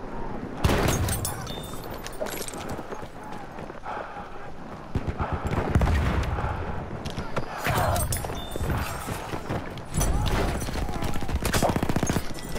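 Rapid shotgun blasts in a first-person shooter video game, punchy repeated booms in bursts mixed with game sounds, while a player talks over the action.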